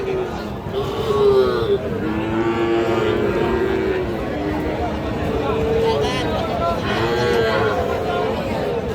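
Cattle at a village market mooing in long, low calls, one near and others farther off, under constant crowd chatter and several people bargaining nearby.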